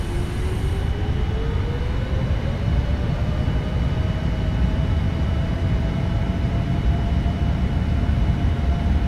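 Boeing 787 jet engines spool up to takeoff thrust in the Prepar3D flight simulator on a Qatar Airways departure from Paris, a loud, continuous broadband roar with a steadily rising whine and no voices.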